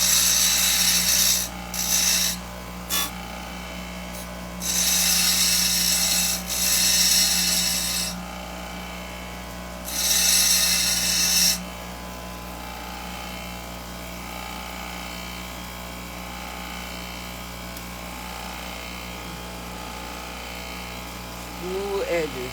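DeWalt lapidary grinder fitted with an 80 grit wheel, a steady hum with several loud bursts of bright high-pitched grinding or buzzing in the first half, then a lower continuous machine drone; a voice briefly speaks near the end.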